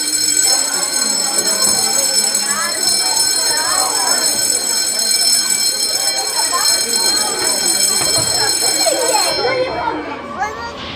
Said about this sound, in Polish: nasz dzwonek dzwoni 10 sekund